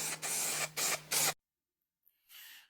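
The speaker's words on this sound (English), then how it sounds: "So what we're doing now is gluing, obviously, the top of the top, and then gluing it down." Adhesive glue sprayed onto upholstery foam for a fluted footstool, three close hissing bursts in quick succession, then a pause and a fainter final burst.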